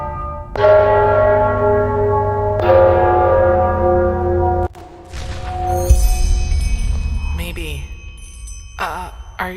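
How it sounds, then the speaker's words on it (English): Church bells toll in the fantasy video game Enderal, several heavy, resonant strikes with long ringing decays, loud and close, followed by softer chiming tones and faint in-game background sounds. "I'm sure the bells have something to do with the riddle."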